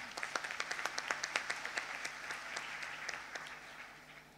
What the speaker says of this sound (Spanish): Un fuerte aplauso para Kevin también.